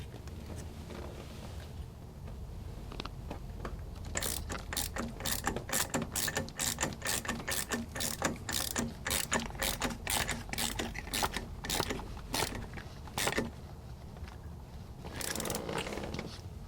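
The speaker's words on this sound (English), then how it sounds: "as long as we keep winding that bolt in, we're going to keep pulling the impeller out of the housing" A ratchet winds a bolt in to pull an impeller out of its housing in a tight boat engine room, a close, rapid string of sharp clicking strokes repeating steadily, then pausing and resuming briefly.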